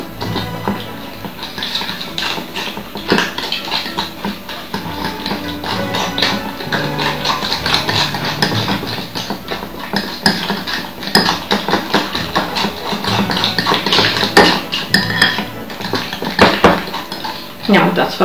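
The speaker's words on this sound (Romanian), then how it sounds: "banana cu zahărul și cu uleiul. Amestecăm bine." Banana mashed with sugar and oil in a bowl, a busy steady run of scraping and clinking utensil strokes against the bowl, close and loud throughout, with no voice over it.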